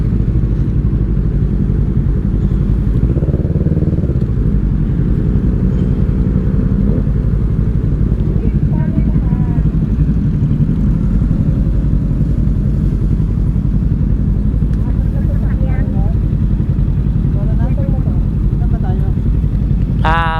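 A group of about seven Kawasaki Z motorcycles riding together, a continuous loud engine rumble with occasional revving, heard under people talking.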